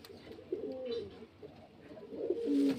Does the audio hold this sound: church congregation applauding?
no